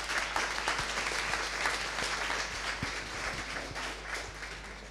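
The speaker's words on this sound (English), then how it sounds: "Give him a round of applause and enjoy the talk." A NixCon conference audience applauds a speaker before a talk on firmware, steady crowd clapping with a few sharper individual claps and a low electrical hum underneath.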